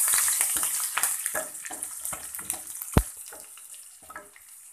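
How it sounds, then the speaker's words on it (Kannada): Cumin seeds frying in a pan for jeera rice give a crackly, bubbling sizzle with repeated stirring scrapes and a sharp clank about two-thirds through, then fade quieter toward the end. "ಹಾಕಿ ಜೀರಿಗೆ ಸ್ವಲ್ಪ ಫ್ರೈ ಆಗೋ ತನಕ ಚೆನ್ನಾಗಿ ಮಿಕ್ಸ್ ಮಾಡ್ಕೊಳ್ಳಿ"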